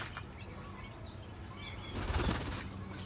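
Pigeons on a rooftop garden, with chickens kept nearby, flap their wings in a short burst of fluttering, joined by a few faint chirps; close and fairly quiet, with no talking.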